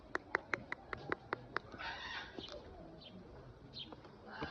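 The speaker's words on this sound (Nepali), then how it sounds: "कति ठुलो कुखुरा रहेछ यहाँ" A large chicken is heard in a rural spot, with a run of sharp, evenly spaced clucks or calls at the start, followed by softer, scattered bird sounds and faint background noise. The sounds are fairly distant and quiet.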